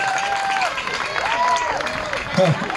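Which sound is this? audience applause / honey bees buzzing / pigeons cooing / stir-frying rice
audience applause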